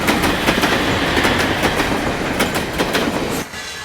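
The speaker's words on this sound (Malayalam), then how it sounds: "1-ാം നമ്പർ പ്ലാറ്റ്ഫോമിലേക്ക് ട്രെയിൻ വന്നുകൊണ്ടിരിക്കുന്നു" A train rolls in toward a station platform with a loud, steady rumble and rhythmic clickety-clack of wheels on rail joints, close and continuous, then cuts off abruptly near the end.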